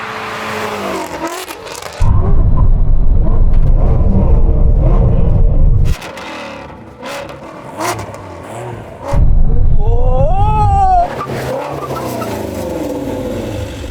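A Porsche 911 and a Shelby GT350 muscle car brake hard from 100 mph, with loud engine roar, a downshift, and tyre noise. Surges come in bursts with quieter gaps between them, and there is no talk.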